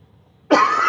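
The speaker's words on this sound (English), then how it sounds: "See if I can cough some more." A single sharp cough bursts in halfway through after near silence, loud and close, with no talk over it.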